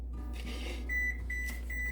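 An oven preheating to 350 degrees gives several short high electronic beeps in a row over a low steady hum, fairly faint and with no talk.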